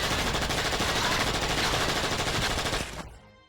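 Rapid automatic gunfire from an Xbox 360 launch shooter video game sounds as a dense, loud, continuous burst that cuts off abruptly near the end.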